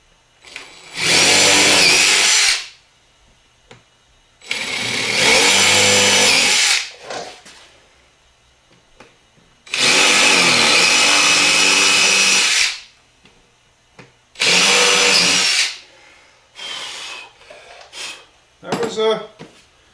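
A power drill countersinks screw holes in a wooden coat rack, running in about five separate bursts of a few seconds each, close and loud, with short pauses between them.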